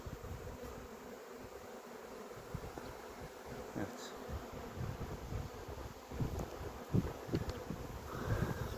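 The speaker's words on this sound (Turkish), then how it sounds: "Bir avuç kadar bir arı kaldı." Honey bees from a caught swarm buzz softly and continuously around the microphone, with light rustling and a faint breeze in the background.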